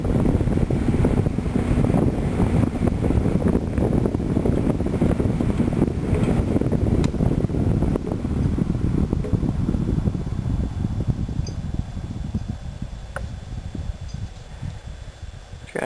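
A Dominion 2017 12-inch electric fan with a large two-pole motor runs on low speed, giving a steady close whooshing rush of moving air with a faint motor hum and no talk.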